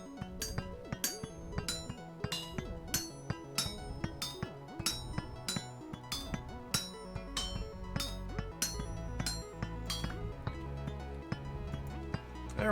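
Pick heads are smithed in Vintage Story with a rapid run of bright metallic hammer clinks, about a dozen sharp evenly spaced strikes ringing out over a low background hum.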